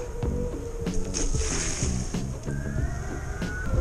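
An electric skateboard with an experimental sodium-ion battery rolling through water, a constant splashing wash with a steady motor whine and rhythmic bumps from the wheels, close and loud throughout.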